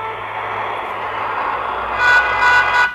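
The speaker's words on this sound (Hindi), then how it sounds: "यही चीज़ अगर मान लीजिए मैं दिखाता हूँ ट्रैफिक का तो ट्रैफिक का इस तरीके से सुनाई देगा" Traffic background effect from a call voice-changer app, a steady road rumble with a few brief horn toots near the end, no talk.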